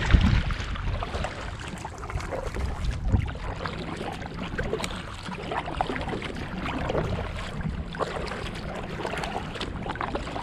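Paddling a Sea Eagle 380X inflatable kayak down the Schuylkill River, with soft irregular water splashes and paddle strokes over light wind noise, fairly quiet and close, no talking.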